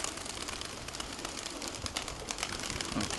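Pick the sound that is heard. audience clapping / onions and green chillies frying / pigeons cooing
pigeons cooing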